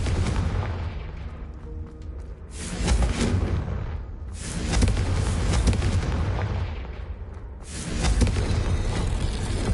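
Repeated booming Confringo spell blasts in the Hogwarts Legacy video game arrive in heavy, roaring waves, each swelling and fading like artillery fire, loud and close with almost no speech.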